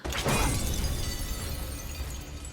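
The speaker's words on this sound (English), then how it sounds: "And shattered it like it was glass." A loud shattering burst like breaking glass erupts in the Castlevania animated series, with a sharp crash followed by a dense, noisy wash of debris that stays loud through the clip.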